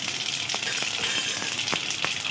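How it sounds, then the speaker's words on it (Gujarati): Mustard seeds, cumin and sesame seeds sizzle in hot oil for Gujarati patra, a continuous close hiss with quick popping crackles. "અહીંયા આપણે અડધી ચમચી રાઈ એડ કરીએ છીએ. અડધી ચમચી જીરું એડ કરીએ છીએ અને 2 થી 3 ચમચી જેટલા તલ એડ કરીએ છીએ."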